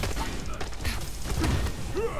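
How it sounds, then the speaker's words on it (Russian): Explosions and heavy thuds from the Marvel's Avengers video game during a battle in Manhattan, with booming impacts and gunfire-like bursts layered in a dense, continuous action soundtrack. "Ведь сколько тут взрывов спецэффектов"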